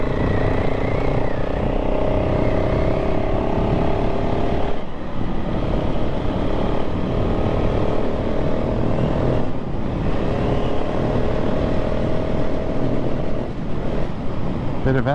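A KTM 690 SMC-R supermoto ridden along narrow country roads, its single-cylinder engine a constant loud drone with rev changes and brief dips as the throttle eases, wind rushing throughout.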